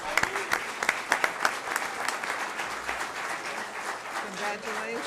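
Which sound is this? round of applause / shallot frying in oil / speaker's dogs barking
round of applause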